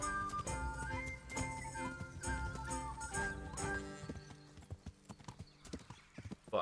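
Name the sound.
horse hooves trotting in video game Kingdom Come: Deliverance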